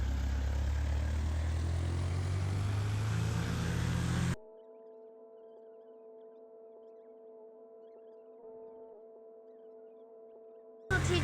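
A propeller-driven Cessna-type plane in a Roblox flight simulator gives a loud, steady engine drone that cuts abruptly to a quieter, even tonal hum, then returns briefly at full loudness at the very end.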